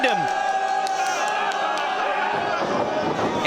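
A crowd at a DPW Carolina Classic 2022 pro wrestling event cheers and roars steadily throughout, a broad wash of voices with a ringing tone at the start.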